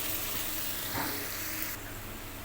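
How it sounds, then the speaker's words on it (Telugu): Chopped onions fry in hot oil with a loud, steady, close hiss and crackle throughout, easing slightly toward the end. "ఆయిల్ హీట్ అయింది ముందుగా కట్ చేసి పెట్టుకున్న ఉల్లిగడ్డ ముక్కలు అయితే వేసుకుందాం"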